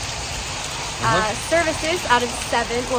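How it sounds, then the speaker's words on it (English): Steady pouring rain forms a constant broadband hiss throughout, with people talking over it from the midpoint onward. "It is pouring rain."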